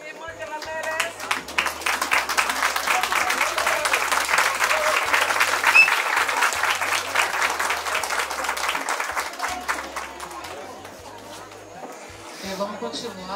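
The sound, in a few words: party guests applauding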